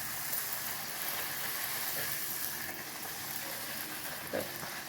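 Puri deep-frying in hot oil gives a continuous, even sizzling hiss, fairly loud and close, with a small bubbling flare toward the end and no voices.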